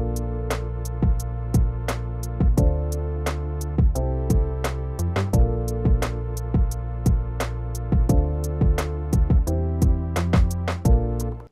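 An 80s-style synth beat from an MPC standalone plugin plays on its own, with steady drum hits over sustained warm synth chords and a smooth, chill groove throughout.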